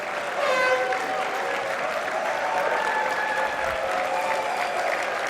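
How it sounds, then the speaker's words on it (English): A large convocation audience gives sustained applause for graduates, with dense, even clapping throughout and faint cheering near the start. "please give a round of applause and a huge, huge cheer for today's graduates"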